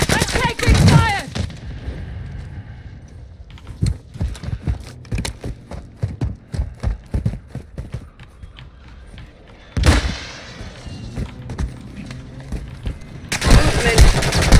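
Gunfire from the Call of Duty Warzone video game, with rapid bursts of shots and sharp single cracks spread across the clip, some loud and near, mixed with game effects.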